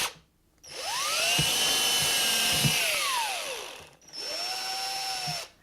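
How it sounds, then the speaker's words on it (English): A cordless drill with a quarter-inch bit whines up to speed and holds a steady pitch while boring holes in plastic, then winds down and spins up again for a second loud burst. "So I've got my cordless drill here, and I've got about a 1/4 inch bit in there."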